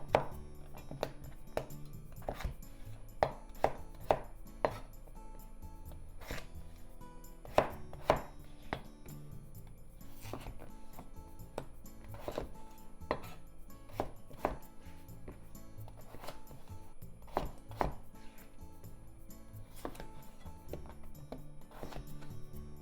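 Peeled potatoes cut into bite-sized pieces with a knife on a cutting board, a steady series of sharp, close chopping knocks at an irregular rhythm with no talking.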